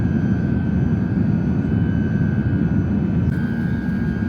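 Etihad Airways airliner engines roar steadily inside the cabin during flight EY31 from Abu Dhabi to Paris, a dense, even low rumble with a faint high tone and no speech.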